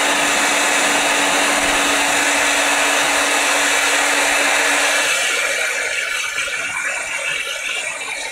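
A hair dryer blows a loud, steady, close whooshing roar with a constant whine, easing off slightly toward the end as the air is directed elsewhere.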